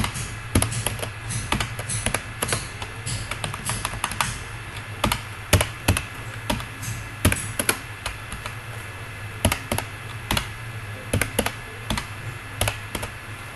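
Someone types data into an Excel spreadsheet on a computer keyboard, producing a steady run of close, crisp key taps with occasional louder strokes and brief pauses, no voices.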